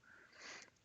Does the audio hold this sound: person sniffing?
yes